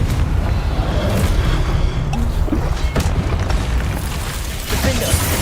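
A Confringo blasting spell explodes in Hogwarts Legacy, a booming burst swallowed in a dense, continuous roar of spell effects and combat noise that stays loud throughout.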